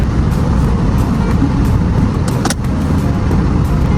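A borrowed Subaru car on a road in Terrace, British Columbia, with a steady, loud engine and road rumble running throughout and no talk.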